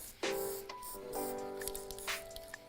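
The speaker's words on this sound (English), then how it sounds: "And give it a nice spray paint." Spray paint sprayed onto a paper collage during craft work, giving short airy hissing bursts mixed with faint can and handling noises, close and fairly quiet.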